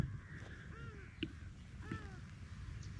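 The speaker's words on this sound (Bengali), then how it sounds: "পাখির আওয়াজ শুনতে পাচ্ছেন" Faint bird calls, a few short rising and falling cries, sound at a distance over a low, steady outdoor hum in a forest by the Damodar River near Bardhaman.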